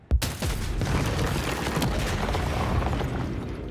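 Gunfire tearing apart the environment in Warhammer 40,000: Dark Heresy opens with a sharp, loud shot, then gives way to a sustained rumbling, crumbling roar of destruction with scattered impacts.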